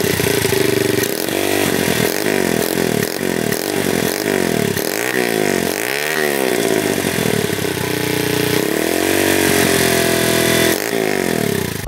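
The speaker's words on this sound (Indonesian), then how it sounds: "Oke, jadi ini dia suara knalpotnya." A modified racing-style Honda C70 motorcycle with an NTD exhaust blips its throttle in a quick series of sharp, loud revs up close, then gives a few longer, higher revs, with no talking over it.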